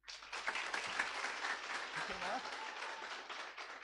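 An audience claps together in steady, dense applause that lasts the whole stretch, with some voices mixed into the crowd noise.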